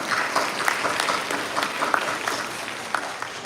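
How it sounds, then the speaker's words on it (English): Applause for dancers at a live stage event, a crowd clapping steadily for a few seconds with dense, even hand claps throughout. "big applause to Nitila and Anu."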